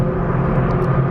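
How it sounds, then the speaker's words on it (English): A car's stock factory exhaust with its valves open, running on stock manifolds, gives a steady, loud, deep engine rumble that holds level throughout with no voices over it. "This is just the factory exhaust with the valves open."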